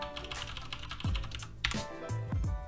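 Quick, close typing on a computer keyboard while entering network settings on an Ubuntu server, a run of light clicking keystrokes with a few heavier key presses, heard without any talking.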